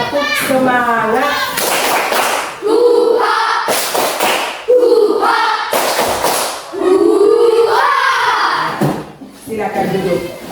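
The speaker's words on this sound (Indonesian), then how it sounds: "Ya, tepuk semangat dulu." A school class doing a tepuk semangat spirit clap during a Catholic religious education lesson, with sharp rhythmic hand-clap bursts between loud chanting children's voices close by.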